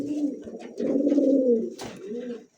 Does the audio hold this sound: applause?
no